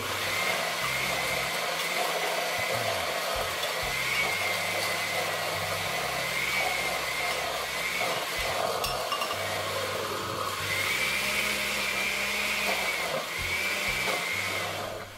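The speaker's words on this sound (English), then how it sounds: "Be very careful not to let the spoon touch the blades at the bottom of the blender." Electric blender whirring through Haitian epis seasoning, a steady loud motor drone with a grinding, chattering texture that dips and surges briefly midway, with no voices over it.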